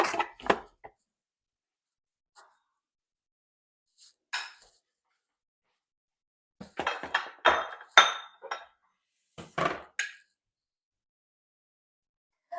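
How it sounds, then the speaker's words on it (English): Metal spoons, one big and one small, scrape and clink against each other and a baking pan while scooping thick banana chocolate chip cookie dough, in sparse bursts of clatter separated by quiet gaps. "I just use a big spoon and a little spoon to scoop it off"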